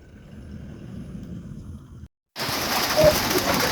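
Rain falls in a soft steady patter, cuts out briefly, then returns as a louder, denser downpour with a few heavier splashes, no voices heard.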